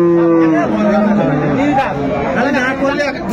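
Cows and calves at a busy rural cattle market give a long low moo, with a crowd murmuring and people talking close by.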